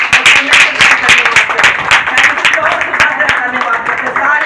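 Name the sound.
audience applause for the children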